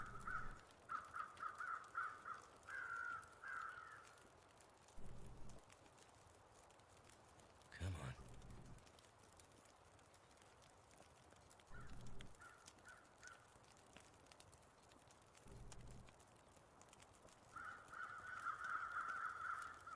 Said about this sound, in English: And those crows are giving it loudy to...